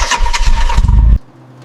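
Flood-damaged, long-abandoned Honda Civic engine cranking and catching, a loud, rough mechanical churn that cuts off abruptly into a faint low hum.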